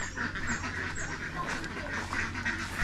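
Ducks quack steadily in a primitive mountain village in the southern Philippines, a cluster of nasal calls heard at moderate distance under outdoor chatter and ambient noise.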